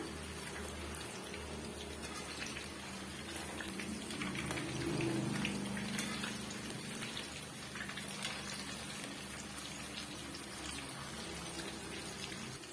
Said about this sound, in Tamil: சிக்கன் சிக்ஸ்டி ஃபைவ் பொரிக்கும் போது ஐ ஃப்ளேம்லேயே இருக்கணுங்க